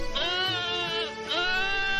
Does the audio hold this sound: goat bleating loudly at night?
yes